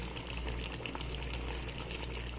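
Water is poured into a pot of mutton korma, a steady, close splashing rush that continues unbroken throughout.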